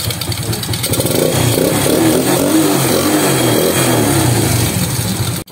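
Rusi Delta 110 motorcycle engine, rebuilt with a 53mm block and regrind cam and fitted with the stock exhaust pipe, runs loud and close at a steady idle with a busy low rumble for about five seconds before cutting off abruptly.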